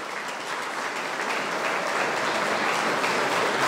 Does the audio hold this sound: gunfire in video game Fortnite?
no